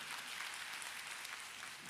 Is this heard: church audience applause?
yes